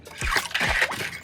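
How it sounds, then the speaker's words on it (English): Sugar is stirred into a pot of brown stew chicken, giving a few wet, sloshing splashes and squelches of thick liquid being mixed, close and moderately loud. "Now I've added some sugar, so I'm just gonna mix this in."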